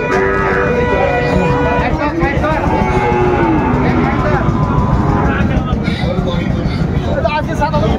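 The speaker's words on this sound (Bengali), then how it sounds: "কেমন দামের শাহিওয়াল জাতের ষাঁড় বাছুর গরু" Sahiwal bull calves and other cattle low at a livestock market. The moos come repeatedly against a busy crowd of people talking, with vehicle rumble in the background.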